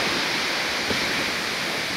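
Waterfall on a mountain trek in Uttarakhand, heard as a steady, loud broadband roar of rushing water with some wind, continuous throughout with no voices.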